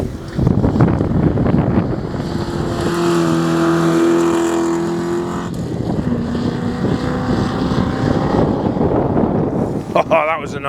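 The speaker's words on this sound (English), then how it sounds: "Oh, that was a nice big old Rover." An old Rover rally car roars past on a forest stage, the engine note rising and falling as it passes fairly close, with wind buffeting the microphone and a voice talking over it.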